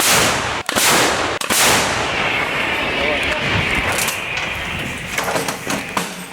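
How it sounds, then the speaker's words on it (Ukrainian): Two sharp, heavy M777 howitzer blasts crack in quick succession, followed by a long rolling rumble and some distant voices. "Постріл!"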